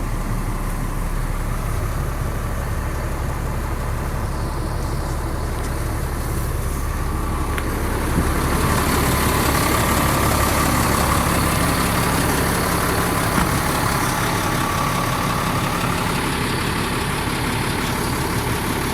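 A 2002 GMC T8500 truck's diesel engine idles after a cold start at a high idle, a steady loud rumble that grows slightly louder and fuller around the midpoint and holds there to the end, with no voices.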